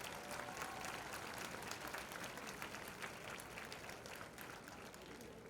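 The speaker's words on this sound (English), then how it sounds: "Please give yourselves a round of applause." Graduating high school class applauding at their commencement ceremony, a continuous wash of many hands clapping from a large crowd, even and sustained throughout.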